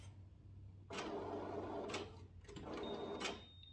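A Canon imagePROGRAF TC-20 large-format printer powers off with two short mechanical whirring bursts of internal motors, close by in a quiet room over a low hum.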